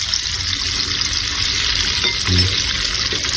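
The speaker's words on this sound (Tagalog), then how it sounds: "So dito tayo nagprito kasi kunti lang yung mantika natin." Chicken fries in a small amount of oil, giving a steady, close crackling sizzle with a brief stir or clatter near the end.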